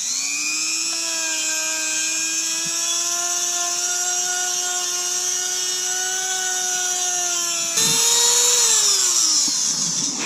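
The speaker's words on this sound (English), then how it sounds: "we're just going to sand out the center of the sprocket here just a little bit" A Dremel sands out the centre of a TT250 43-tooth rear sprocket, a loud, steady high-pitched whine that runs unbroken, with a brief pitch jump and a slow sag near the end.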